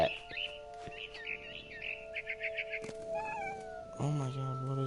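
A cat meows repeatedly in the video game What Remains of Edith Finch, a run of short close meows amid game ambience with faint bird chirps, then a louder drawn-out meow at the end.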